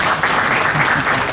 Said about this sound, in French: Merci beaucoup, on peut l'applaudir.